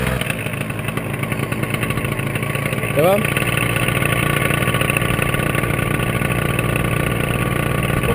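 A paramotor engine pull-started at a training airfield, catching around three seconds in and settling into a steady, buzzy two-stroke idle close by, with people talking over it.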